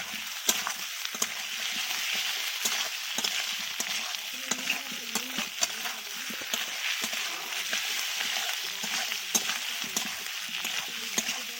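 Ginger and cumin paste, with whole cumin seeds and ginger pieces, fries steadily in a home kitchen pan for a kohlrabi, potato and egg curry, giving a continuous close sizzle broken by occasional stirring scrapes.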